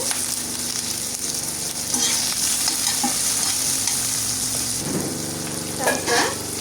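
Green chillies and a large tomato sauté in a hot pan, producing a loud, steady sizzle with intermittent spatula scrapes and stirring clatter, no one speaking.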